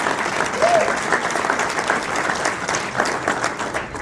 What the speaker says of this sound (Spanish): Un aplauso fuerte a nuestro Dios.